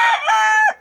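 A gamefowl rooster gives a single short crow, loud and close, a bright harmonic call lasting under a second that ends abruptly.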